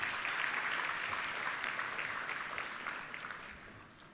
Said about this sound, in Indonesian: Sekali lagi tepuk tangan kepada beliau.